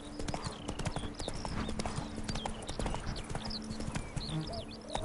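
Roach, a horse in The Witcher 3 video game, gallops with a quick, steady clip-clop of hooves, with birdsong chirping in the background throughout.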